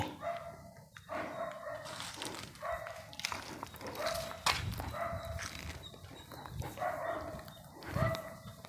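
A dog barks repeatedly outside an empty house on a steep hillside, sharp barks coming in irregular bursts, some near and loud, over a faint outdoor background.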